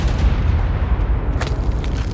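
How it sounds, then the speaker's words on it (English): A deep, rumbling boom from an explosion in the survival game Ark rolls on as continuous low-frequency noise. It sounds loud and sustained, with no talk over it. "Maybe see what made that explosion."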